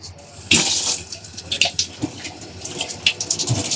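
Tap water runs into a bowl of marinade for grilled fish, a steady gushing stream with splashes and clinks from handling the bowl, close and fairly loud.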